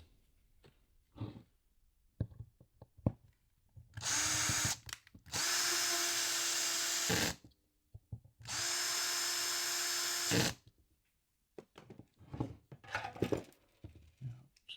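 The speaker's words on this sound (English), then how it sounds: "So just putting those screws in." Power drill driving screws into a rifle stock during assembly, two sustained loud whirring runs of a few seconds each separated by a pause, bracketed by clicks, handling knocks and brief speech.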